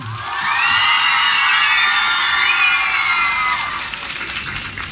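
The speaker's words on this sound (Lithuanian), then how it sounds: "Aplodismentai jam!" At a 2004 ultratriathlon event in Panevėžys, a large indoor crowd bursts into sustained applause with cheers and whoops for a champion, swelling quickly and holding steady for several seconds before starting to fade.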